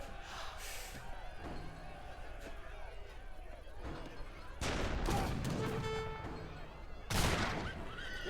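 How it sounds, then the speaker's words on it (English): A heavy cannon firing in the real-time strategy game Age of Empires III during a match, with booming shots and impacts among busy battle sounds and commentary. "Heavy cannon getting off a shot onto the skirmishers."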